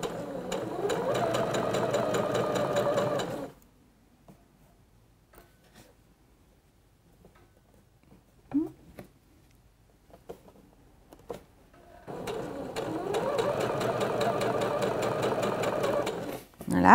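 A sewing machine stitches a dart in a swimsuit in two loud, steady runs, one at the start and one near the end, with a quiet stretch of small clicks and handling noises between them.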